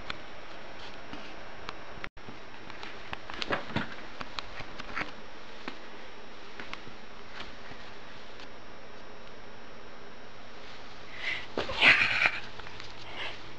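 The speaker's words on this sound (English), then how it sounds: "Kitty attack!" A cat attacks and meows nearby, with scattered scuffling and soft ticking sounds. A louder yowl near the end stands out above a quiet room background.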